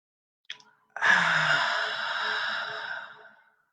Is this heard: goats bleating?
no